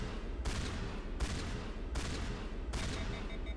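Four hard shotgun blasts from Mass Effect, fired with frictionless materials, crack out at an even pace, each a loud, close burst that cuts off quickly over steady game ambience.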